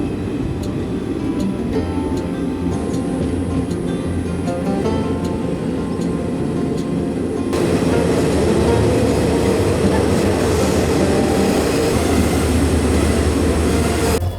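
The Mysuru to Talaguppa Intercity Express runs near the KRS dam, its steady rumbling wheel and carriage noise loud and continuous, with faint rhythmic clicks and a slight rise in intensity midway.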